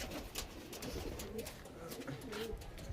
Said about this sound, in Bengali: এই আমার বলছিলাম মালবাই পায়রা